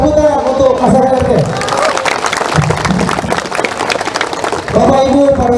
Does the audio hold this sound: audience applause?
yes